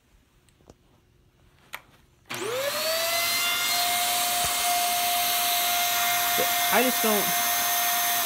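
A Hoover Air Steerable vacuum cleaner switches on after a couple of seconds of quiet and runs steadily and loudly, with a pronounced high-pitched whine riding over the motor's roar. A brief word of speech comes just before it starts.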